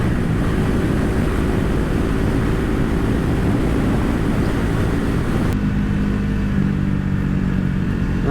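A KTM RC 390 motorcycle accelerates to overtake on a short straight, a loud continuous engine roar mixed with heavy wind rush that shifts pitch partway through.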